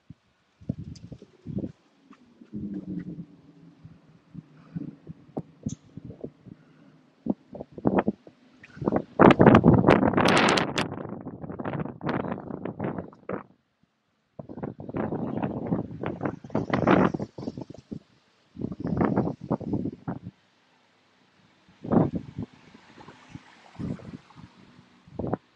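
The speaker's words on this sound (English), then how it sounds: "That wind is kicking up." Strong wind at an outdoor pigeon market in Lier, Belgium, buffets the microphone in loud irregular gusts, with bursts of rushing noise separated by brief lulls and no talk.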